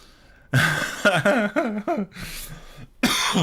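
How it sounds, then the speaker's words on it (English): A short burst of coughing close to the mic, several rough hacks in quick succession, followed by a breathy exhale and one more cough. "you just made me laugh so much that I started coughing"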